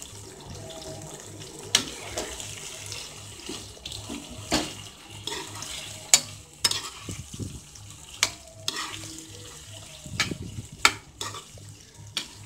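Spatula scrapes and clanks intermittently in a pan as capsicum and onion are stirred for gobi manchurian, with a soft background hiss and scattered sharp knocks.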